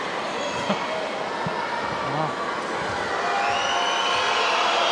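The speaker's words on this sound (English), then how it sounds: "You can hear what the Serbian crowd think about it." A Serbian home crowd at a women's basketball game reacts to a missed free throw, a broad arena murmur and whistling rising slightly toward the end, with a commentator talking over it.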